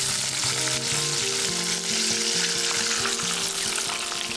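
Steady, loud sizzling of turmeric-marinated chicken frying in hot oil, a continuous crackle throughout with no speech.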